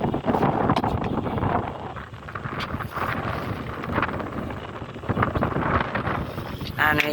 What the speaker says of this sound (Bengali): আর হয়েছে বাতাস